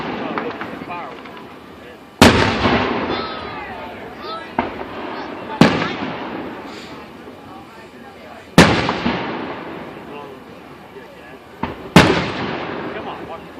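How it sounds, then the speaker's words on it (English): Fourth of July fireworks in Canonsburg bursting overhead, four loud booms spaced a few seconds apart, each trailing into crackle and rumble, with people talking in between. "Oh, look at the fireworks."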